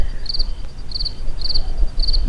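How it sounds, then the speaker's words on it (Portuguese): Crickets chirp at night in regular bursts of rapid trills, about four evenly spaced pulses, clear and fairly close over a faint background hiss. "que tal ouvir o barulho da noite, né? Dos sapos, dos grilos,"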